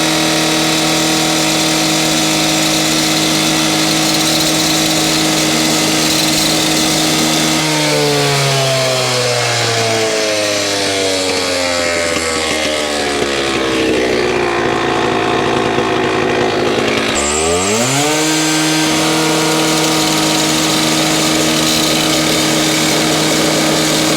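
A saw with a blade not suited to porcelain tile cuts through it outdoors, throwing sparks. The motor whines loudly and steadily, its pitch sinking under load midway through the cut and then climbing back as the blade frees up.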